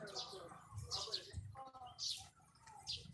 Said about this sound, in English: There's a lot of birds here.